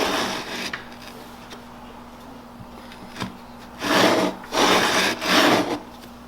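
A router plane and chisel cut a dado in wood for a stair stringer: a quiet scraping start, then three loud, close, rasping strokes in quick succession.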